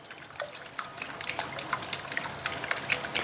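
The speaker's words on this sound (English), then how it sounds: "In this bowl, I have mixed in the lemon juice and the hot sauce together, and I am going to give that a whisk." A whisk rattles quickly against a bowl of lemon juice and hot sauce, making a steady run of light, close clicks and wet liquid splashes with no talking.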